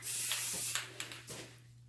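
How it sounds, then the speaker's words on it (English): Spray paint hisses in broad bursts onto glass kitchen canisters, a steady spray for about a second and a half followed by a few short puffs, close and fairly loud over a low background hum. "So spray painting away."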